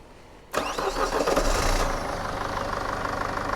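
A Mercedes Sprinter CDI diesel engine fitted into a classic Mercedes campervan cranks and catches abruptly, then revs up and settles into a steady, loud, close idle.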